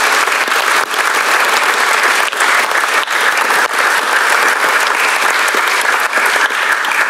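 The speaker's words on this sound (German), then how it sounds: "Können wir auch, glaube ich, nochmal einen Applaus Richtung Wolfgang Sittka schicken" Audience applause at a football club talk show about VfB relegation, steady and dense clapping filling the room for several seconds, loud and close, with no break.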